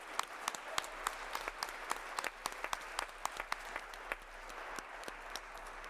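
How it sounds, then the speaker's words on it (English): Scattered audience clapping for the member experience team at a fireside chat event, a faint, steady round of applause with sharp individual claps, no speech. "Let's give them a round of applause."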